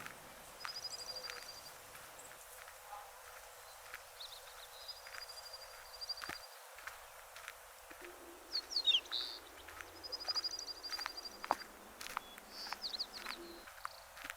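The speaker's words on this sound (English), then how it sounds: "listen to the joyful birds chirping" Birdsong in a pine forest beside a path with wooden bridges: scattered chirps and short whistled phrases, fairly faint and spaced out, with no talking.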